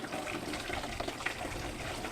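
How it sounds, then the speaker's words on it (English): Water gushes from a tap into a herbicide sprayer tank being filled for mixing glyphosate, a steady close-up rushing and splashing pour with no talk. "So right now I'll fill this thing up with water"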